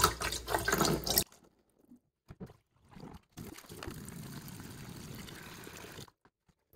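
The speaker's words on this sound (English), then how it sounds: "I'm just being really gentle, and I'm rinsing this out." Water sloshing and splashing as dyed fabric is gently rinsed in a large bucket, with a burst of pouring, quiet gaps, then a longer stretch of steady swishing.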